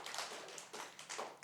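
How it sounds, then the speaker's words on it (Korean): A church congregation at a Friday worship service claps together in a short burst of quick, rhythmic claps, close and fairly even, with no talking. "박수 한번 치세요"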